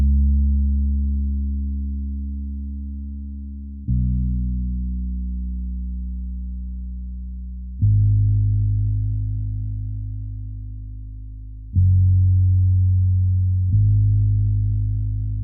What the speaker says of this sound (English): I laid down a bass that sounds like this